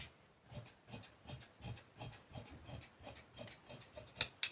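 Scissors cutting fabric for a circular palazzo, a steady run of short crisp snips and rasping cuts repeating about twice a second, close and fairly quiet with no talking.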